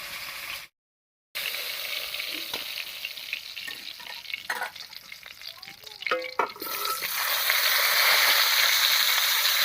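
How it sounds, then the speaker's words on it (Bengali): Cauliflower pieces frying in hot oil in a kadai, plain without salt or turmeric; a steady sizzle with stirring clatters and scrapes in the middle, then the frying swells louder and constant toward the end. "এবার নামিয়ে ফুলকপিটা ভেজে নেবেন তেলের মধ্যে"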